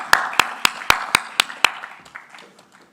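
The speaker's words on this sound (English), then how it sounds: "Please put a huge round of applause for him." Clapping to welcome a moderator at a business panel discussion: about seven crisp, evenly spaced claps from a nearby person or small group, followed by a few faint, scattered claps trailing off.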